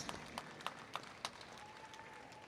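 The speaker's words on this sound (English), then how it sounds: "a nice round of applause for the flags of the countries of the World Percheron Congress" Spectators applaud the national flags entering the arena at the World Percheron Congress opening ceremonies, a faint, distant patter of clapping with a few sharper claps standing out early.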